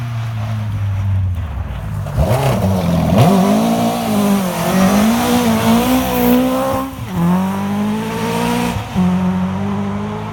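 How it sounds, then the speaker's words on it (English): A Rally 2 competition car on a stage of the Pirelli International Rally passes alone, its loud engine note rising and falling through gear changes and revs as it approaches, draws near and pulls away. "And our first Rally 2 competitor, Phil Burton and Mal Capstead."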